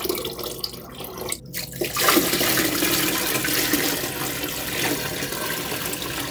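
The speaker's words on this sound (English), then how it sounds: "let's go ahead and add this nutrient" Nutrient solution is poured into water in a grow pail, starting as faint handling noises, then becoming a loud, sustained splashing gush that continues steadily to the end.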